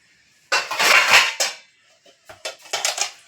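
A metal lid clatters onto a pan of marinated katla fish, one long scraping clank followed by a few shorter knocks and rattles, close and fairly loud.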